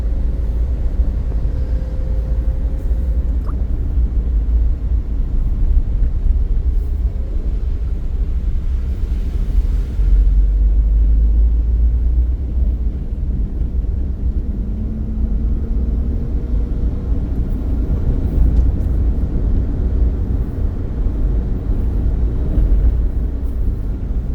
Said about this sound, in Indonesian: Nah ini bis listriknya.